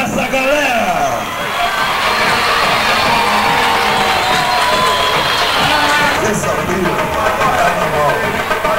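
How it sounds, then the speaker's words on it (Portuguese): A large carnival crowd cheers and applauds continuously, loud and dense, with shouts rising over a steady roar of clapping. "Aplausos dessa galera!"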